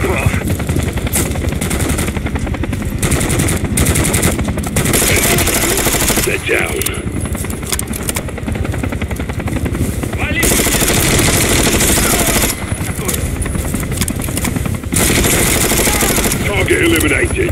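Call of Duty Modern Warfare 3 firefight with loud, sustained automatic gunfire rattling almost nonstop, mixed with shots and voices in the chaotic mix.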